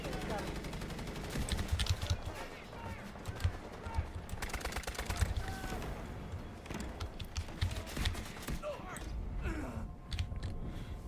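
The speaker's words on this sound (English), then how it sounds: "Strategic beacon deployed. Roger that. Artillery barrage incoming." An artillery barrage in the shooter video game Delta Force pounds without pause, a dense, loud rumble of rapid booms and crackling gunfire that rises and falls.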